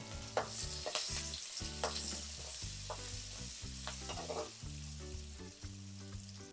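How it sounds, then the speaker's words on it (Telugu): Green chillies and onions frying over a low flame in a pan for egg pulao, giving a steady, close sizzle with occasional stirring scrapes under continuous background music. "గోల్డెన్ కలర్ వచ్చే వరకు వేయించుకోవాలి మంచిగా"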